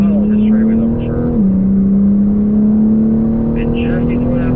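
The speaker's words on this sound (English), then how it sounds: "Full throttle on this straightaway though, for sure." A BMW M car on a racetrack runs at full throttle down a straight, its engine droning loud and steady with one brief pitch dip as it keeps pulling, close up from inside the cabin.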